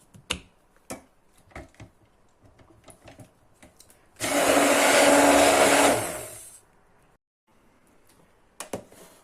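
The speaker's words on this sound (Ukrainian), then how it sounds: "Ну і взбиваємо." A blender whips apple and carrot pieces in one loud, steady burst of about two seconds that winds down, with quiet kitchen clatter before and after.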